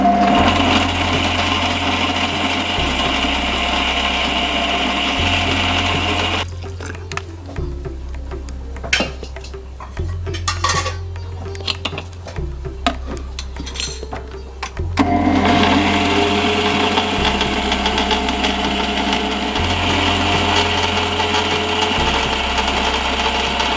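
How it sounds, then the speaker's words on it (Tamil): A mixer grinder whirs garlic, ginger and green chilli into a fine paste, a loud steady motor drone in two bursts separated by a quieter pause with rattling and clicks, the motor pulsing in regular surges. "இதை வந்து நல்ல ஒரு வெண்ணெய் மாதிரி ஃபைனாக ஒரு பேஸ்ட்டாக அரைச்சிடணும்"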